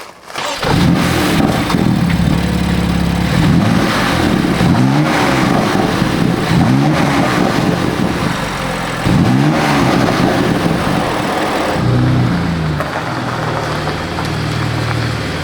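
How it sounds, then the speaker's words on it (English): A BMW M4 fitted with Dinan carbon fiber intakes revs up loudly and close by, several rising engine sweeps with induction roar between idle stretches, no voices. "So this is what the induction noises sound like right now with just the Dynon carbon fiber intakes."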